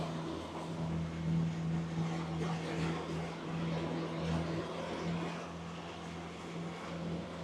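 An Excess 14 catamaran motors at 2,500 RPM, giving a steady low engine hum with a constant drone and a wash of wind and water noise over it, heard continuously from on board.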